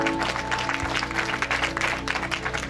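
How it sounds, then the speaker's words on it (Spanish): An audience applauds at a community celebration as a couple is welcomed in, a dense, sustained clapping over a low background hum. "Fuerte los aplausos, mis hermanos."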